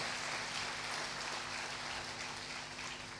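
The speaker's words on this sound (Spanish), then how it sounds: "Dale un aplauso fuerte al Señor" A church congregation applauds during a sermon, a dense, steady wash of many hands clapping at once, fairly faint and distant and continuing throughout without spoken words.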